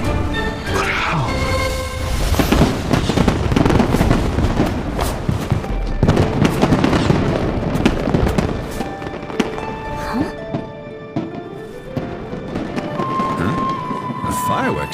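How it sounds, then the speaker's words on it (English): A fireworks show in the video game Genshin Impact, with repeated booms and crackling bursts over a dense bed of game music and ambience, fairly loud throughout. "Fireworks show?"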